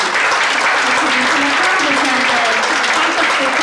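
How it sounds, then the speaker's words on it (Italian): Dense, loud applause fills a conference hall, a large audience clapping steadily throughout with no break. "L'applauso."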